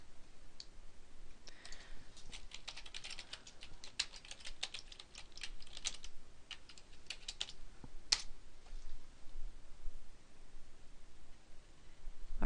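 Rapid keystrokes rattle on a computer keyboard alongside occasional sharp mouse clicks while logging into the MyEWG campus portal, a steady close-up patter of typing with brief pauses and no talking.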